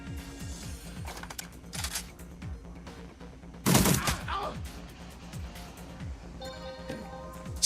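A single heavy shotgun blast in the video game Shadowrun Returns cuts sharply through a steady bed of quiet background music and clicking, then fades quickly.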